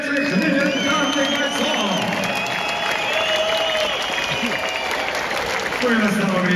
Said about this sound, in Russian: мы должны искупать в аплодисментах этих легендарных